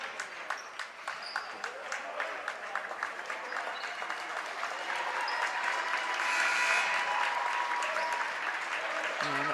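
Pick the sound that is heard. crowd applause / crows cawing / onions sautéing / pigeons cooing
crowd applause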